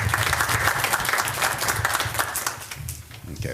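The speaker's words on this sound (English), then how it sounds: "I would ask folks to join me in a round of applause for our former board member" A brief round of applause at a community board meeting honours a departing board member: many hands clapping in a brisk, crowded burst that tapers slightly near the end, with murmuring beneath it.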